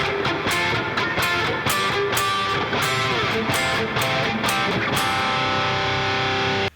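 A song played as a sequence of bright major chords, a repeating rhythmic chord pattern with sharp stabs, steady and moderately loud with no talk.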